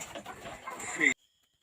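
Chickens in a poultry house cluck and murmur under a person talking nearby, a busy close chatter that stops suddenly.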